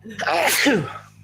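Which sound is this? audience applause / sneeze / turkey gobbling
sneeze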